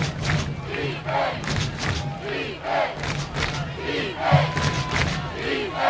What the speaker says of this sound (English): the visiting Ranger crowd chants defense